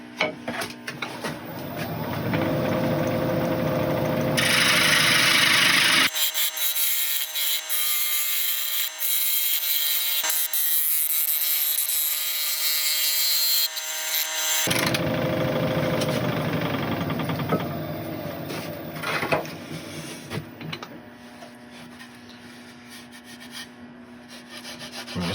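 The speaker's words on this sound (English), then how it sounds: "I'm just going to get the scraper in on these wings" A scraper works a walnut piece spinning on a wood lathe, giving a steady loud rasping scrape that drops out briefly mid-clip before resuming, continuous with no talking.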